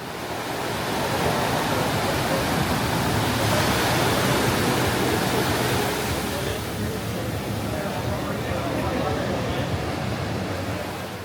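Ocean waves roll in on Balangan beach in Bali, a steady, loud, broad wash of surf that swells and eases slightly, with no clear voices.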